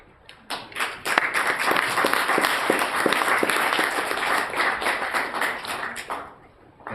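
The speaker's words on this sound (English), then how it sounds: "thank you for clapping" A live audience at an urban assembly gathering claps steadily for about six seconds, a dense, sustained applause that fades out at the end, with no voices over it.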